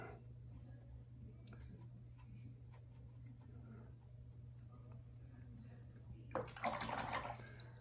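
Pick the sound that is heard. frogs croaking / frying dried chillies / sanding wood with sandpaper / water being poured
water being poured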